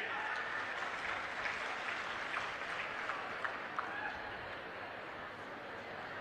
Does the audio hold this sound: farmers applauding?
yes